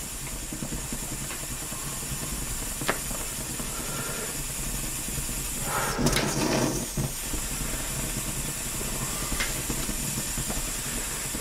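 A vintage German miniature blowtorch burns with a steady, close hiss throughout, swelling into a louder roaring flare for a moment near the middle.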